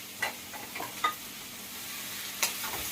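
Vegetables frying in a small wok: a steady close sizzle with a few light scrapes and clicks as they are stirred, no talking.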